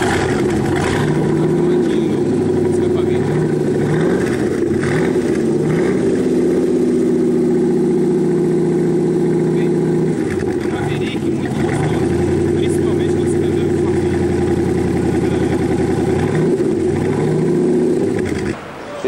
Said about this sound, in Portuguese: Olha só, pra vocês o ronco do GT